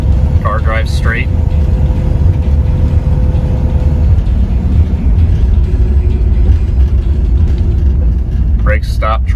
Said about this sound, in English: Car drives straight.